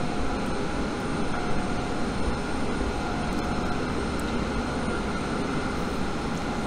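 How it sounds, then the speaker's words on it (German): Eurowings airliner at an airport heard as a steady, distant jet engine roar, a constant broadband rumble throughout with no talk. "Und jetzt warten wir darauf, dass diese blöde Eurowings da hinten mal losstartet."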